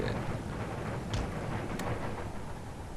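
Mortar fire on a battlefield in Empire Total War, a distant, low rumbling boom under a steady wash of battle noise, with a couple of sharp cracks, no voices.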